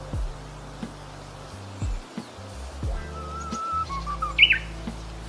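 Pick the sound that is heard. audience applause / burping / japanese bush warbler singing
japanese bush warbler singing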